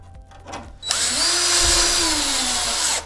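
A power drill drives 1/4-inch structural screws into a wood joist strap during a joist repair, starting after a brief pause and running as one loud, steady whine that sags slightly in pitch as the screw snugs up.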